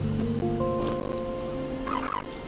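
In the video game Dimhaven: Enigmas, a bird gives a loud, gobbling, turkey-like squawk with warbling tones, close up over a steady background wash.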